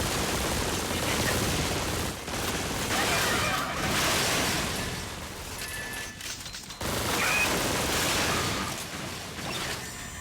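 An inaccurate machine gun in Metal Arms: Glitch in the System sprays long, dense bursts of rapid fire, loud and close, broken by two brief pauses.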